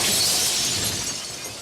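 Glass shatters loudly and close during a violent fight, a dense crashing burst that rings on and slowly thins out, with no voices.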